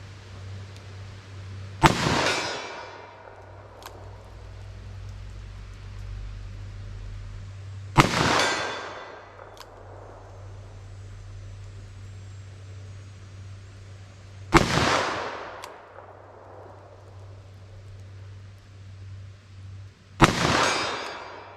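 Four sharp, loud reports from a .357 Magnum handgun firing Federal HammerDown rounds at an outdoor range, spaced about six seconds apart. Each shot has a short ringing decay over a steady low hum.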